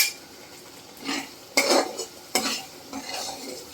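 A spoon scrapes and stirs a spice mixture sautéing in a pan, with a soft sizzle underneath and a few distinct louder metallic strokes, close and without talking.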